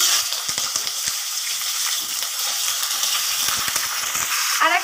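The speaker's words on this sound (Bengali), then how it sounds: "তো এখন আমি এখানে মুরগিটা দিয়ে দিব।" Chicken pieces frying in hot oil in a wok, a steady close sizzle with sharp crackles and clinks of stirring throughout, no voice over it.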